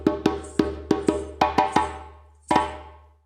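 Djembe signal rhythm played by hand, a quick series of sharp ringing slaps in an uneven pattern, then a pause and a final doubled flam stroke, close and clear with no voices over it.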